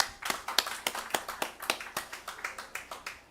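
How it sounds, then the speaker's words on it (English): Applause for conference panelists at a climate crisis cooperation session, made up of a few distinct claps in a quick, even rhythm, fairly faint and sparse rather than a dense crowd roar. "So I would like us to give a round of applause to the panelists."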